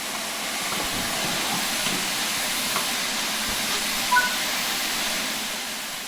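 A steam locomotive's large vacuum ejector in Train Sim World 5 hisses in a steady, loud, continuous rush of steam, close and unbroken, with faint mechanical clanks underneath.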